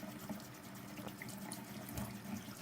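Water running from a tap to rinse a K&N air filter from the inside, a steady faint hiss and splash of flowing water, continuous and alone.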